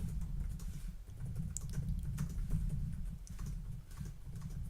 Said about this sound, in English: I'm typing some shit over here